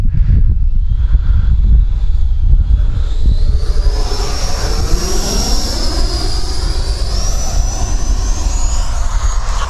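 An E-flite Viper ducted fan RC jet flies overhead in a crosswind, its loud, steady whine and rushing roar shifting in pitch as it passes close and banks away, with no talk.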